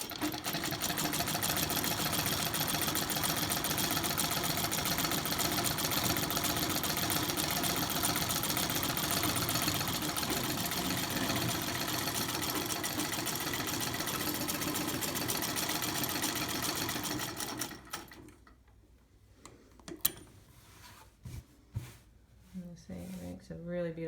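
A Singer 27 clone treadle sewing machine from around 1911 runs in a loud, steady, continuous whir for about eighteen seconds, then stops, leaving scattered clicks and handling sounds.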